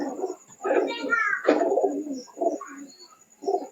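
Teddy pigeon chick, a young male, cooing in soft repeated bursts close by, with short pauses between calls and a faint steady high tone in the background.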